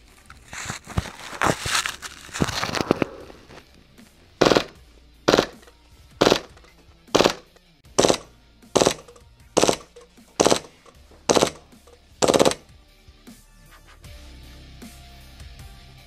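An airsoft replica rifle firing full auto: after a few scattered clicks and handling noises come about ten evenly spaced short bursts, loud and close, followed by quieter mechanical rustling.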